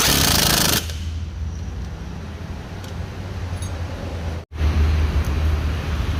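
A lightweight Japanese Tone pneumatic impact wrench rattles loudly and continuously, cutting off for an instant before resuming its harsh, buzzing hammering.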